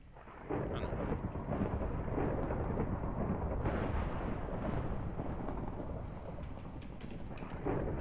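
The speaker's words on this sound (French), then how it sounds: "De l'orage." Rolling, rumbling thunder from a video game thunderstorm, loud and sustained for several seconds with a broad, heavy roar and no talk over it.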